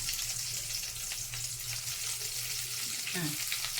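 Green chillies and curry leaves frying in ghee give a steady, close sizzle throughout, with a faint clink of stirring near the end.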